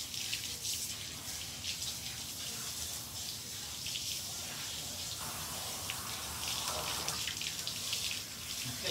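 Running shower water sprays steadily over a dog, a continuous bright hiss and splatter with slight shifts as the stream moves, close and constant.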